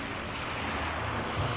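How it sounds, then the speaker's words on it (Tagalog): Sea waves roll and churn near the shore on a rough day, a steady, loud wash of surf with wind noise and no talk. "Gulong ng alon, kaya magalaw yung tubig"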